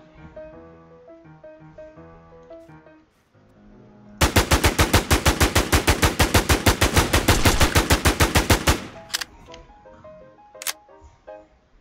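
An automatic weapon blasts a long, loud continuous burst of rapid shots in the video game Infestation The NewZ, lasting several seconds between quieter stretches of game music and effects.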